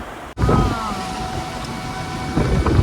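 Rain begins with a sudden burst of thunder, then a close, heavy, steady rush of rain and wind for a few seconds, with no clear talk.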